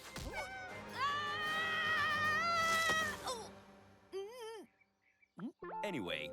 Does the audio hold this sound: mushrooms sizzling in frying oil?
no